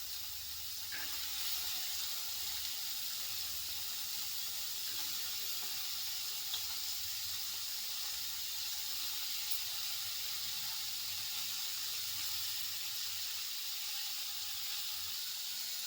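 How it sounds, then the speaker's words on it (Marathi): Cauliflower cooks in a pan of oil with a soft, even hiss and sizzle that holds steady throughout, quiet and close with no speech. "आता टाकत आहे फुलकोबी. फुलकोबी शिजत आहे."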